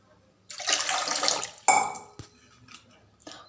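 Water pours into a pot while hibiscus tea is being made, a short splashing stream lasting about a second, followed by a clunk and a few faint drips and knocks.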